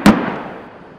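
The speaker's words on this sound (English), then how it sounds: "Today, they're launching high-explosive 100-pound rounds at targets up to 700 yards away." One sharp, loud boom from an M109A6 Paladin self-propelled howitzer firing a high-explosive round during direct-fire training, with a brief echoing rumble that fades over the next second.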